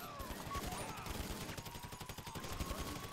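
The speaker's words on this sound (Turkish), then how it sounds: "Prizm'da feci silah sesleri var bir kere" Rapid gunfire in an online shooter game, a dense run of sharp shots in quick rhythmic bursts, fairly faint and continuous throughout, with no speech over it.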